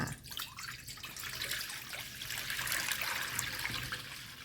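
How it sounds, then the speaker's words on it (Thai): Water pours and splashes into a pan nearby, a steady gushing stream that rises slightly in loudness, with no talking. "เทน้ำลงไปค่ะ"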